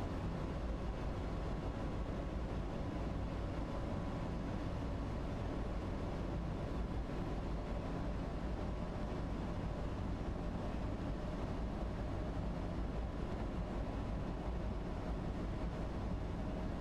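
A commuter train in Train Sim World 2's Dresden rush-hour route runs along with a low, continuous rumble and hum, its wheel and motor noise holding steady and even throughout.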